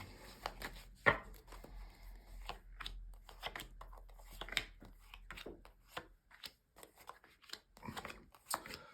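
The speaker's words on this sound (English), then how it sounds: "I'm going to shuffle the cards" Tarot cards are shuffled close by in quick irregular bursts of crisp slapping and riffling, with short pauses between, in an otherwise quiet room.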